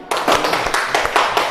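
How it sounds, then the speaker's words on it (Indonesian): A small group of university students claps in a classroom after a presentation, a quick, uneven rhythm, sharp close claps repeating several times over a short burst. "Kita tepuk tangan kelompok 3."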